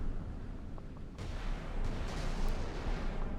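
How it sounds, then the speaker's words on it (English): An Udaloy destroyer in the naval combat game Sea Power fires missiles. Each launch is a sudden whooshing roar that rises over a low rumble and trails off into a rushing hiss. "The amount of missiles that this Udaloy can throw up in the air is very impressive"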